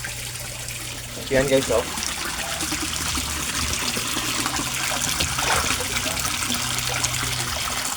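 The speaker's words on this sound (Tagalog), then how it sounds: "ang aerator na ginagamit ko, yung yung air pump, ang lakas-lakas niya pero 18 watts lang siya" An 18-watt air pump aerator bubbles water in a koi pond, a steady close gurgling and trickling that runs throughout, with a brief voice speaking near the start.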